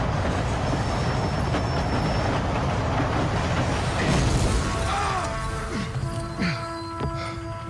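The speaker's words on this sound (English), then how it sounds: "John can man the train and smash the roadblock into Mexico" Train rolling in the video game Red Dead Redemption: a steady loud rumble throughout, swelling into a crash-like burst midway, then metallic squeals and tonal screeches near the end.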